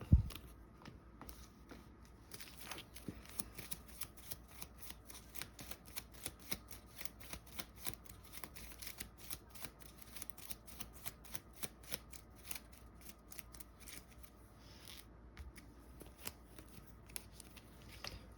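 Cards being discarded and drawn during a solo GI Joe deck-building tabletop game, a long stretch of quick papery flicks and snaps in an irregular patter, close and fairly quiet, with no talking.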